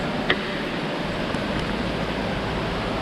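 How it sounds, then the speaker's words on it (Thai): Stream flowing beside a forest trail at a cave site, a steady rushing water wash, close and continuous with no voices. "เสียงที่นั่ได้ยินตอนนี้นะจะเป็นเสียงจากลำธารด้านซ้ายมือผมนะครับ"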